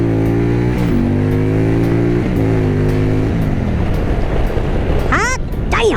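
A 2022 Indian Pursuit motorcycle pulls away hard, its close, loud engine tone climbing and dropping through several gear shifts before settling into a steady, rushing wind-blown roar.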